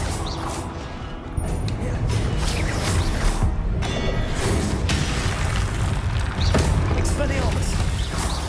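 Blasting spell explosions in a fantasy spellcasting video game, heavy booms and crashing impacts layered over dense game effects and music, loud and continuous with several sharp bursts.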